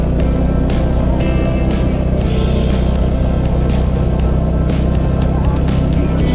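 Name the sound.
motorbike engine straining uphill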